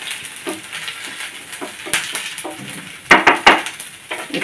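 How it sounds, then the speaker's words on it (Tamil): Ginger and black pepper frying in hot oil for little millet pongal: a steady crackling sizzle, broken by clinks and scrapes of a spoon stirring against the pan. "அந்த மிளகோடையே சேர்ந்து அந்த இஞ்சியும் நல்லா ஃப்ரை ஆகணும்"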